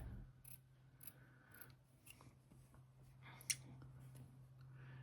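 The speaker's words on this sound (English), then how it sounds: "So I'm going to trim that down first of all, so we've got no overhang." Scissors snip through fabric for a bucket hat, trimming off overhang in a handful of quiet, separate cuts with a sharper snip near the end, set against a low steady hum.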